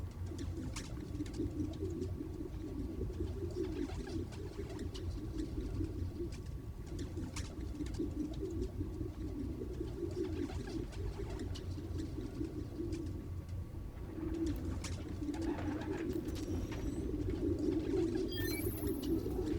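Recorded pigeons cooing in the video game Marvel's Spider-Man Miles Morales, soft repeated low coos layered over a steady ambient hum, faint and continuous throughout.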